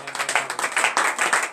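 A church congregation at a morning prayer service in Benin claps in acclamation, quick rhythmic bursts of many hands clapping close by, with no voices over them.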